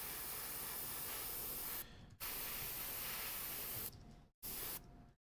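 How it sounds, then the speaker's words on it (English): Bursts of aerosol spray paint hiss steadily as miniature army figures are coated from above, three long sprays broken by brief pauses, close and loud. "I'm just spraying from the top evenly"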